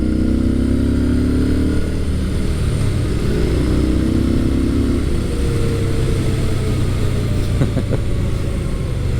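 Yamaha SCR950 retro scrambler with a V-twin engine, heard while riding through corners at low RPM: a steady, loud, deep engine rumble with wind noise throughout, rising slightly in pitch as it pulls.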